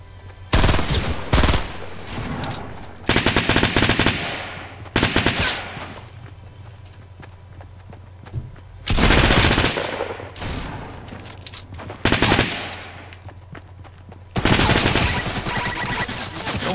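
Bursts of automatic gunfire in Destiny 2 come in several loud, rapid strings of a few seconds each, separated by brief quieter gaps.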